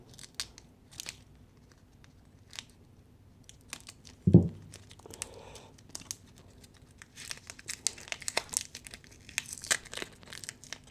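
Paper wrapping crinkles and crumples as an old 62-year-old Willys Jeep part from France is unwrapped, with scattered close rustles and one sharp thump, growing busier toward the end.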